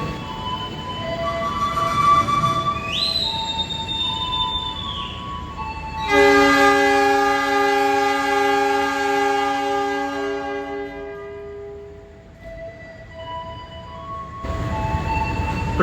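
The Mutiara Selatan passenger train departs Yogyakarta station for Bandung. A brief rising whistle comes first, then a long, loud, sustained horn blast over rolling wagon noise, followed by the fading clatter of the departing train.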